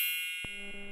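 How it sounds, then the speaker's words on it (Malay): A single bell is struck once, with a bright clang that rings on as a sustained, slowly fading tone, heard alone with no talk. "Loceng untuk si tumpuk."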